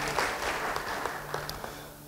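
A church congregation at an Indonesian-language sermon breaks into applause, a dense, steady wash of many hands clapping at moderate volume, with a few sharper claps standing out and no speech.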